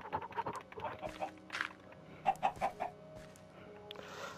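Minecraft chickens cluck in a series of short, bright bursts, some clustered in quick runs and others spaced apart, at moderate volume with a faint game ambience behind them and no talking.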